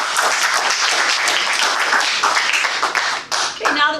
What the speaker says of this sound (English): now that we're all thoroughly clapped out